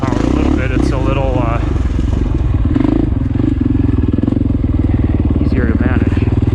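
A Husqvarna FE501 dirt bike engine drones loudly while being ridden on single track, with a steady, throbbing single-cylinder rumble and shifting revs, while a rider talks over it.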